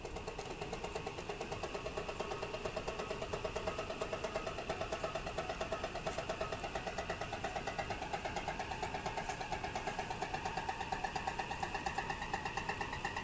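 Bedini bicycle wheel motor running on a bench, giving a faint, rapid, even pulsing tick over a steady electrical hum, continuous and alone.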